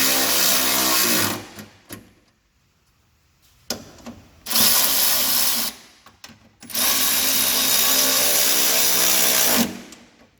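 A Milwaukee power tool runs in three loud bursts as it drives sway bar bolts tight on a Mazda Miata during an Eibach sway bar install, with short quiet gaps between bursts.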